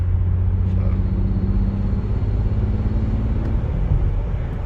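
A BMW B58 engine fitted with a BMS inlet intake pipe, heard while driving in sport mode near 2,000 RPM as a steady low rumble with a faint intake drone, recorded from inside the car, with no talk.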